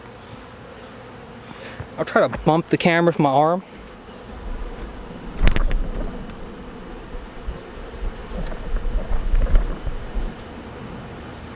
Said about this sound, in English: the bees, the strong hive, are going to clean out all this